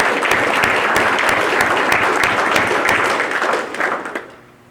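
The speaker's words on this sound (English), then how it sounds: "So let's give them also a round of applause." Loud, dense applause from a tech symposium audience rolls on steadily, with sharp individual claps standing out, then thins and fades away near the end.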